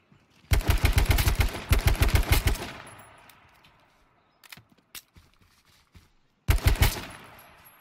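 Loud bursts of rapid automatic gunfire in the H1Z1 King of the Kill battle royale game, one long volley of close shots followed by scattered single cracks and a final short burst, with no talking.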